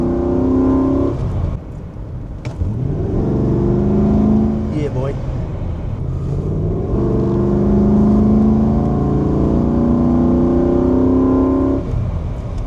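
A V8 car engine revs hard at full throttle from about 30 km/h, a loud sustained roar rising in pitch, with a man's brief exclamation over it.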